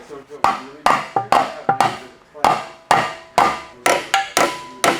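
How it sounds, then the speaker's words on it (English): Loud, close hammer blows on the metal oil pickup of a crash-damaged BMW E60 M5 V10 engine, about a dozen strikes in an uneven rhythm, each with a short ringing decay. "We need to hammer the oil pickup."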